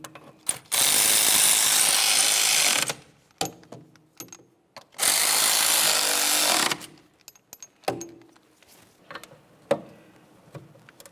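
Mechanic's tools work on the rear wheel hub of a 2009–2010 Pontiac Vibe during a bearing and hub replacement: two long, loud, buzzing ratchet bursts, each about two seconds, then scattered sharp clicks and clanks, close up.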